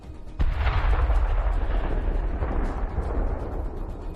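Tank cannon fires a single shot in a Russia-Ukraine tank battle: one sudden loud boom followed by a long rumbling roar and echo that slowly fades.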